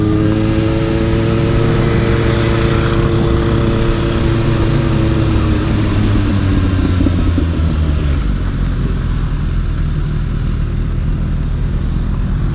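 A Suzuki GSR 750, a Honda CBR600RR and a Kawasaki ZX6R rev together on a Bogotá street, a loud, steady multi-engine drone with rising and falling pitch that settles into a rumbling idle.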